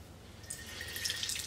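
Soapy water dripping and trickling from a wrung-out beauty sponge, faint at first and then a quick patter of small drips and splashes growing slightly busier, close up and quiet.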